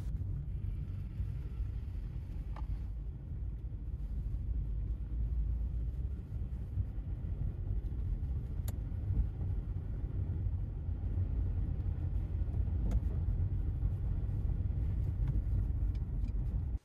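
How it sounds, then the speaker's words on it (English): A 2002 Toyota RAV4 driving on the road, heard as a steady low rumble of engine and tire noise from inside the cabin, with faint clicks and no talking. "Let's go for a drive in the RAV4 so you can see how these lights look in action."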